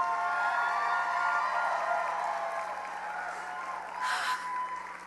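Applause and crowd noise from an audience at The Geekie Awards 2013, moderately loud at first and gradually thinning out, with a brief swell of cheering near the end.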